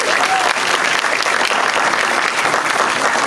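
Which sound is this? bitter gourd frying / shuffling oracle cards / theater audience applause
theater audience applause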